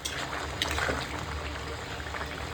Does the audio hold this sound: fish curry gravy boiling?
yes